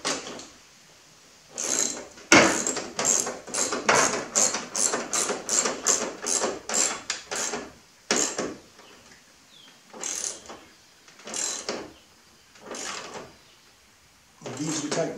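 A ratchet snugs up bolts on a grill guard on a 2016 Ford Explorer, in bursts of rapid clicking strokes with pauses between, close by, mixed with someone talking.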